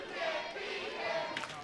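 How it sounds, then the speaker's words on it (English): Wrestling crowd at a match between Ron Mathis and Tony Johnson, a broad steady roar of many voices that could be the rhythmic 'You can't beat him' chant, carrying on without break, with a commentator talking over it. "Oh, this crowd is starting a chant, "You can't beat him.""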